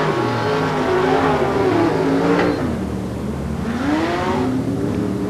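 Race cars roar at full throttle through the top turn onto the home straightaway on the final lap of an international oval race, a loud continuous engine drone with rising and falling pitch as the cars sweep past.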